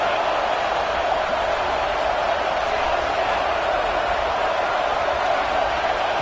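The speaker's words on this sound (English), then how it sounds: "this crowd is fired up. Listen to this noise here." Football stadium crowd cheering at a game, a steady, dense roar of many voices filling the whole stretch without a break.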